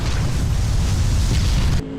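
An Aprilia Tuono motorcycle engine roars hard under full throttle on an open road outside town, a loud, dense, rumbling blast that holds steady for nearly two seconds before dropping off abruptly.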